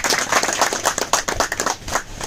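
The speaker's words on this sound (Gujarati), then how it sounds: "આમંત્રણ આપવાવાળા અમારા ભાનુભાઈ ભરવાડ સાહેબ માટે દિલથી જોરદાર તાળી થઈ જાય." An auditorium audience in Ahmedabad claps together in a dense, loud burst of applause, with many hands overlapping close by for a couple of seconds.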